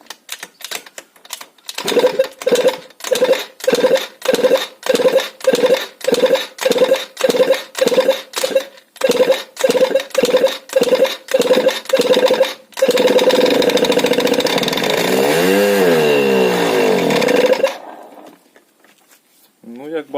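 A Puma 50cc two-stroke scooter, run without its carburetor on petrol squirted into the intake manifold, cranks in a long series of rhythmic bursts, then fires and revs raggedly for several seconds before cutting out abruptly.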